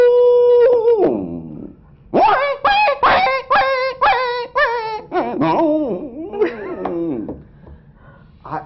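A man imitates dogs howling at night, giving a long falling whine and then a run of quick yelping barks that lead into wavering howls. The mimicry is loud and close, with nothing else heard.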